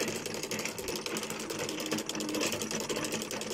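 Metal ratchet clicking as a canal lock paddle is wound up by hand at Northbrook Lock on the Oxford Canal, a steady rapid mechanical clatter running throughout at close range over outdoor background noise.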